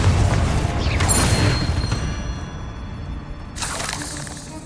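Confringo fire spell blasts in the Hogwarts Legacy video game: a loud explosive burst at the start, a second bright crack around one second, a trailing rumble, then another burst near the end.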